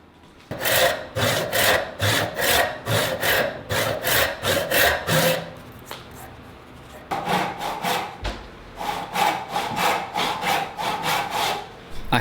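Hand sawing through wood to cut a bridle joint for a stool, a long run of steady rhythmic back-and-forth strokes, loud and close, with a short pause midway before the strokes resume.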